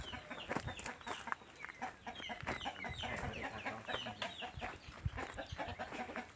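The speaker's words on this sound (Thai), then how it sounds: "ไก่ก็มีครับ มีไก่ดำก็มีนะครับ" Chickens, including black chickens, cluck busily at a Thai farm, with overlapping clucks and short calls in an irregular rhythm, fairly close and continuous with no talk.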